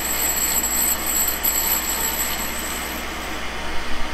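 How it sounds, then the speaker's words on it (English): A Cincinnati tool and cutter grinder spinning a flared cup wheel, giving a loud, steady broadband whir with a high whine on top, continuous and close, with no speech. "I believe that the wheel is running smoother."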